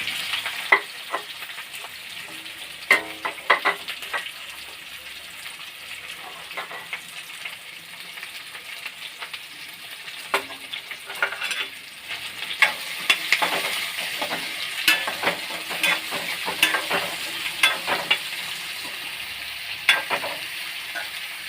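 Garlic, onions, urad dal and curry leaves fry in hot oil for a tempering, a steady crackling sizzle with sharp pops and intermittent scraping stirs, close and continuous without talk.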